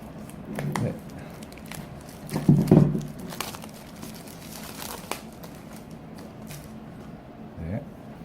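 Tough plastic film wrapping a box crinkles and tears as the box is opened, with scattered rustles and a louder burst of crackling midway, close and continuous.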